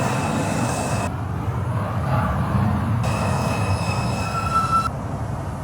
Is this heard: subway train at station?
yes